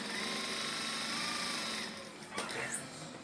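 A sewing machine stitches a seam on a shirt. It gives a steady, fairly loud whir that eases off near the end, and a few brief clicks and handling noises follow.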